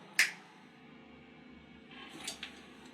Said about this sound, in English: When I snap my fingers, you will awake and remember everything.